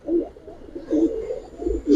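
Giribaz pigeons give soft, low, throaty coos in a few repeated rolling phrases close by, with no talking.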